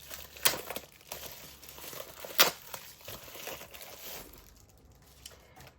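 Purple bubble wrap printed with little hearts crinkles and crackles while a parcel is unboxed, with two sharp crunching bursts among softer rustling, then quieter handling toward the end.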